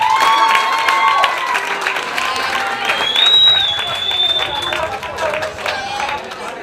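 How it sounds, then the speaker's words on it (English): Kitchen students and chefs applaud themselves in a busy room, clapping mixed with cheering, crowd chatter and a few whistles, fairly loud and close, tapering slightly toward the end. "Give yourselves a round of applause."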